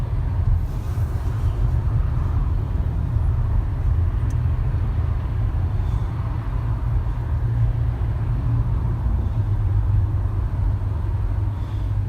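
Steady road and traffic rumble heard from inside a 2017 Nissan Altima driving in Los Angeles on a Sunday night, a continuous low drone of tires and engines with no breaks or voices.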